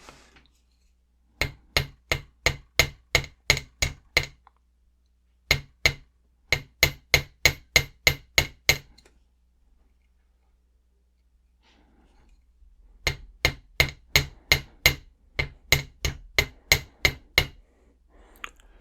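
A hammer strikes wire to flatten the curves of a handmade jewelry clasp, three quick bursts of sharp, evenly spaced metallic taps separated by pauses of silence.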